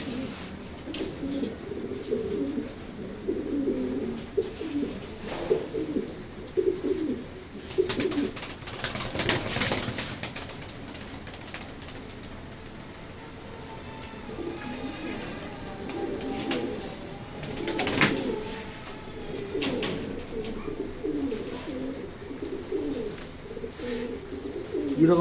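Several fancy pigeons from a top-quality breeding line coo in low, rolling bursts that repeat through the clip, close and steady, with a short louder flurry near the middle and another toward the end.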